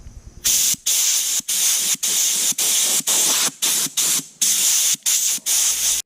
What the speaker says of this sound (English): Now I'm gonna blow off all these flakes with the air compressor.